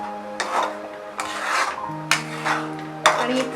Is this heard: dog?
no